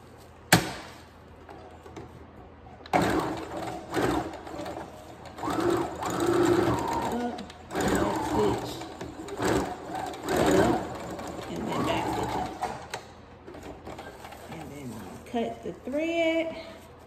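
A sewing machine runs in short bursts, stitching elastic onto a newborn ruffle sock, its whirring motor starting and stopping close by, with someone talking over parts of it.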